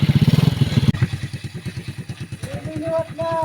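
A motorcycle engine idles and runs with a steady, fast thumping rhythm after a timing chain replacement, loud and close, with some clatter and a brief rising tone near the end.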